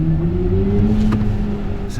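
BMW iX xDrive50 electric SUV emitting its synthetic driving sound, a steady futuristic hum with slowly gliding tones, moderately loud and close, without talk.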